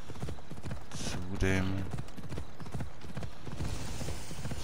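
A horse gallops with quick, steady clip-clop hoofbeats in Assassin's Creed Odyssey, close and continuous, with a brief whinny-like burst and someone talking over it.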